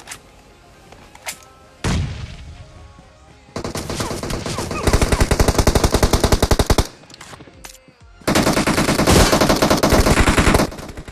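Automatic gunfire in the mobile shooter Battlegrounds Mobile India, including DP shots: loud rapid bursts rattle repeatedly, with short pauses and a few single shots and thumps between them.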